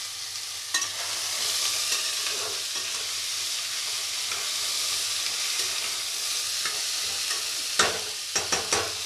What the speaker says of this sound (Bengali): আলুগুলোকে এবার আমি লাল লাল করে ভাজবো